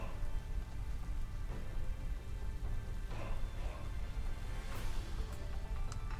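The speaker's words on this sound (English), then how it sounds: "here they're going to take away the sun and bring in the rain" Steady rain patters and hisses throughout, with a low rumble underneath and occasional brighter splashes, no voices; rain weather effect in Pokémon Sword and Shield.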